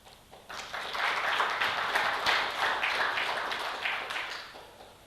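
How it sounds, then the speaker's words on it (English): Audience applause at a smart-security panel in Qatar, a steady patter of many hands clapping for about four seconds, moderately loud and fairly distant, rising quickly and tapering slightly at the end. "Please, a round of applause for all of us for making it here"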